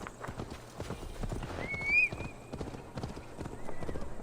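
A horse gallops at a steady clip-clop pace in Assassin's Creed Valhalla, hooves thudding rhythmically under a brief neigh midway, with a voice speaking faintly over the hoofbeats.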